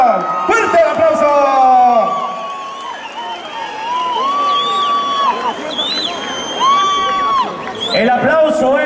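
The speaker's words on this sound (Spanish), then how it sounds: "¡Fuerte el aplauso!" A lively crowd cheers and whoops with shrill whistles over a steady roar of noise, loud and sustained throughout.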